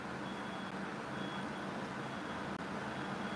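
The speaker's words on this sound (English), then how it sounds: "Y'all hear the beeping in the background?" Faint reversing beeps sound from a vehicle under a steady wash of engine and road noise, distant and partly masked.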